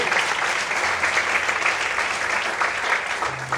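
Sustained applause from a church congregation during a worship service, many hands clapping in a continuous even wash, with a faint low tone appearing briefly.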